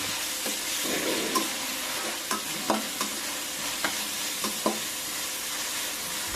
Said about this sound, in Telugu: ఈ ఉల్లిపాయ పేస్ట్ త్వరగా వేగటానికి సరిపడా కళ్ళుప్పును వేసుకుని వేయించుకోవాలి